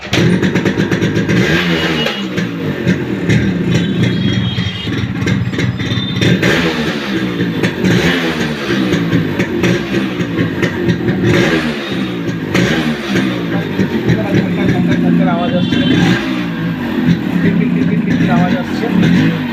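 Yamaha 135cc motorcycle engine with a starting problem, cranking and then running with a steady, loud, throbbing idle and occasional revs, under someone talking close by.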